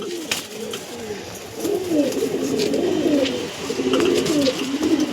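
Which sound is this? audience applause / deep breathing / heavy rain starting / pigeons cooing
pigeons cooing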